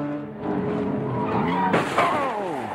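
Nissan GTS race cars skid hard and crash at Watkins Glen during an endurance race, with a loud, continuous roar of engines and tyres and rising screeching sweeps near the end.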